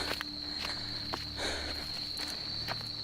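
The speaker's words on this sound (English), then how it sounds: "Yeah, it's got dark, lots of crickets randomly." Crickets chirping in the dark make a steady, high, continuous trill throughout, with soft footsteps or rustling tapping now and then beneath it.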